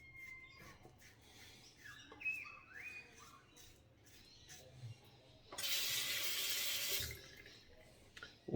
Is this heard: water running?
yes